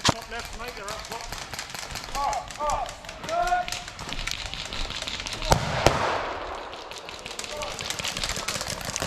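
Rapid airsoft gunfire cracks and pops at an outdoor airsoft game, with shouting players calling out to each other over the shots.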